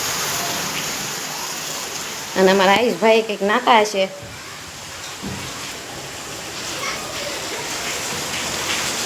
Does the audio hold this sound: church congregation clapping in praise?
no